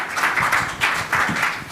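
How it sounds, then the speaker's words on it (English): Audience applause after a conference session on security risk management: steady, moderately loud clapping from a room of people that swells and dips briefly throughout. "thank you guys for giving them a round of applause"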